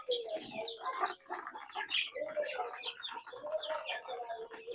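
Around seventy fifty-day-old country chicken chicks cluck and cheep continuously in a farm room, a dense overlapping chorus close by, with no clear speech.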